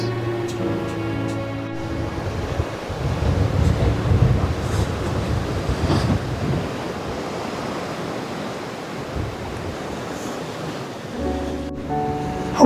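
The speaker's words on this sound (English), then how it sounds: "I need to hold on to my bonnet in this wind" Strong wind blows at the coast in a blustery, continuous rumble that buffets the microphone, with a faint tonal hum near the start and end.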